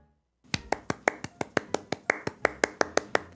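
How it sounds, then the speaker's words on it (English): A run of sharp hand claps, about fifteen in a steady, slightly uneven rhythm, crisp and close, with no talking. "Two clap, clap, two clap, clap, two clap, clap, clap."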